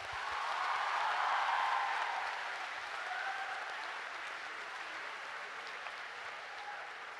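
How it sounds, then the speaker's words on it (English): A school assembly audience gives a long round of applause for quiz winners, a dense even wash of clapping that swells in the first two seconds and then holds steady, heard from some distance in a reverberant hall. "I believe they do deserve quite a great round of applause."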